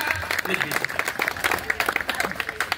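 An audience at a large community conference gathering in Odisha gives loud applause, a steady wash of clapping with talking voices mixed in and heard throughout.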